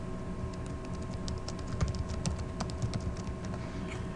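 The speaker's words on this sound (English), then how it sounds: "So we'll go ahead and type that out" Typing on a computer keyboard while entering lettering text into embroidery digitizing software, a quick irregular run of light clicks and taps held steady throughout, close and fairly quiet, with no talking.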